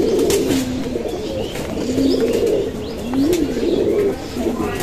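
Pigeons of a good breed, kept for sale, coo in low rolling phrases close by, several calls overlapping steadily with faint chirps in the background.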